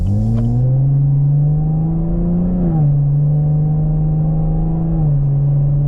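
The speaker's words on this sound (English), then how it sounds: "And it has a great sound out the back with the sports exhaust." A deep, throaty V8 exhaust from a 2024 Chevrolet Camaro 2LT RS with sports exhaust drones loudly up close, its pitch creeping upward in short rises, dipping slightly between revs.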